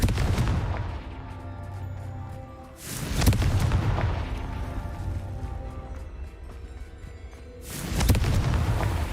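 Confringo fire-spell explosions in the Hogwarts Legacy video game, heavy booming blasts with long rumbling tails, a few spaced apart over a loud continuous game soundscape.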